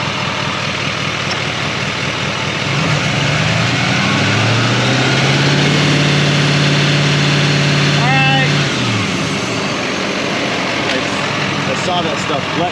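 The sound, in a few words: Silverado Duramax 6.6 L5p diesel engine revving to 2000 rpm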